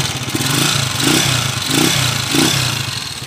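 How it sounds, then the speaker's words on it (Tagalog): A motorcycle engine with a noisy timing gear and a misaligned crankshaft runs steadily up close, giving a clattering mechanical rumble that swells in a few slow pulses with no talk. "Tapos maingay na yung timing gear."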